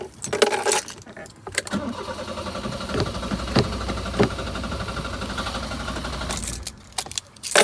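A car engine is started by popping the clutch in first gear with the e-brake pulled up; a steady mid-pitched engine rumble runs through the middle, with clatter and rattling at both ends and no talk.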